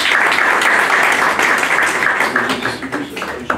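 Audience applause fills a gallery during a cultural evening at the Fondation Najjar, steady dense clapping from a crowd that stays loud throughout, then thins slightly near the end.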